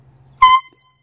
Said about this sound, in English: This little horn just made that sound.